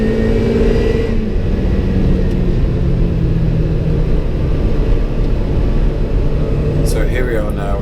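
A Lotus Elise Cup 250 engine drones loud and steady while held flat out in fifth gear at speed on a racetrack, with wind roar and someone talking over it.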